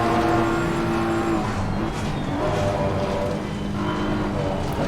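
Race cars from the Assetto Corsa Competizione racing game, including BMW and Mercedes GT cars, drone along a straight at steady high revs, the engine note holding near-constant with slight dips as traffic runs close by.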